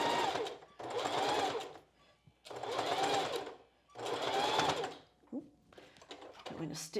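A sewing machine stitches a seam in a strapless bra at a half-inch allowance, running in three close, loud bursts. Brief pauses and light handling noises fall between them, with speech at times.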